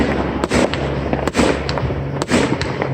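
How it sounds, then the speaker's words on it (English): A rapid barrage of fireworks and firecrackers in a backyard display, loud sharp bursts crackling one after another with repeated strong booms, heard from nearby with no talking over them. "I cannot believe the fireworks he's shooting off."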